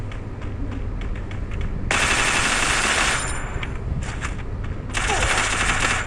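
UMP submachine gun and shotgun fire in a Bengali-commentated online shooter match, with loud rapid bursts of automatic gunfire and sharp blasts under a steady game background.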